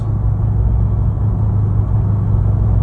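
A 740hp C6 Corvette Z06 engine lugging at low RPM, a loud, deep, steady rumble that stays constant with no revving rise, heard up close.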